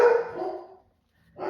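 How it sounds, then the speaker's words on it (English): A dog indoors gives a loud, close bark, then a second shorter bark after a brief silence. "She might bark"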